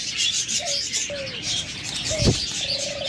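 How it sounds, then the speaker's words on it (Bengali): A pair of white crested doves gives a few short, soft coos, spaced out over a steady background hiss among other birds. "জুটিওয়ালা ঘুঘু পাখি দুইটাই সাদা কিন্তু মাথায় জুটি আছে"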